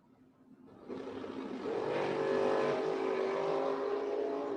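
A drag-strip launch at Gainesville Raceways, a truck and a dragster pulling away together, their engines surging up from near-silence into a loud, sustained roar that builds and holds.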